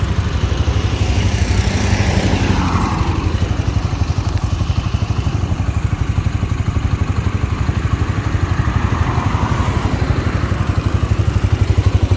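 A new 2023 Yamaha YBR 125G motorcycle engine runs loud and close, its rapid single-cylinder pulse steady with slight rises in revs and no voices over it.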